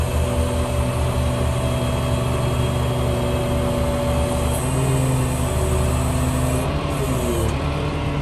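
Engine of a used truck idling steadily, a continuous loud drone with a constant low hum and a slight pitch shift near the end, no talking.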